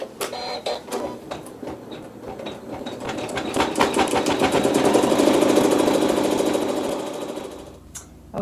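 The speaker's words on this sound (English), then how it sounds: "we're going to sew the satin cover stitches" A sewing machine runs satin cover stitches on a Dresden quilt block, a rapid rhythmic needle chatter that speeds up and grows louder through the middle, then slows and stops near the end.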